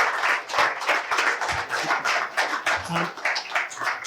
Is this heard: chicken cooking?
no